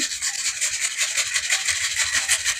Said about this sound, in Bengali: এবারে ঘষবো আমি। পেঁয়াজটা ঘষে নিচ্ছি।